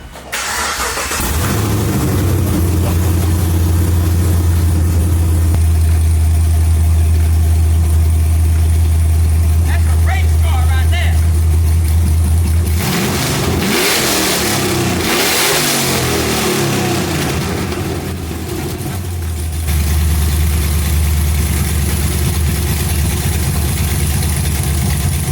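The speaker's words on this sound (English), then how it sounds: "Police car with a cam, headers, and no exhaust." Cammed police car running open headers with no exhaust, a loud, lumpy idle that fills the clip, broken midway by a rough blip of revving before settling back into the choppy rumble.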